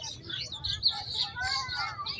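Small birds chirp and twitter in a silk cotton tree in bloom on a Meghna riverbank, bright overlapping calls running continuously at moderate distance over a low outdoor rumble.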